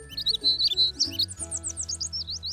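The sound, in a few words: baby bird chirping, cartoon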